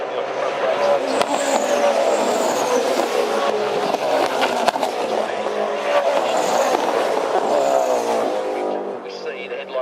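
Race cars at speed on the Bathurst circuit in 2012, engines roaring continuously with tire squeal as they pass, while a commentator talks over the noise.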